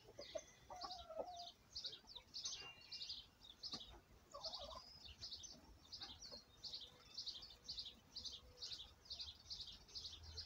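Backyard hens and a rooster cluck and chatter busily while pecking at tossed dandelions, a near, continuous run of short rhythmic clucks over faint outdoor background.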